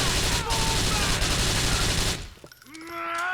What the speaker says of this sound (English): Boy, that gun sure shoots some fast.